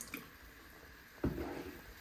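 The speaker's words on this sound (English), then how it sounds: "Then you add in a splash of white wine vinegar," A splash of white wine vinegar goes into a pan of dirty macaroni sauce: one short, wet liquid hit followed by a brief soft pour, close and fairly quiet.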